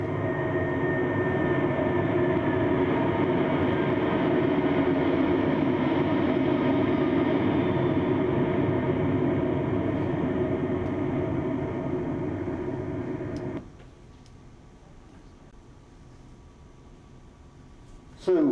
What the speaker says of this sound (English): this is where the jet noise dominates.